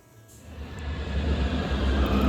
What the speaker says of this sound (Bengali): ওই দেখুন মেট্রো এসেও গেছে